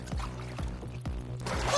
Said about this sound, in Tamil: இந்த சுடு தண்ணி அந்த நண்டு மேல பட்டா அதோட கதையே முடிஞ்சது.